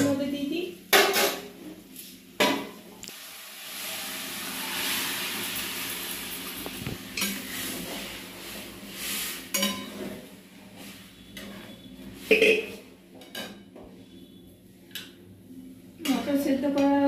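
A utensil clanks and scrapes in a pan while boiled peas are stirred into ghugni, with intermittent metallic knocks over a soft background hiss and speech heard in places.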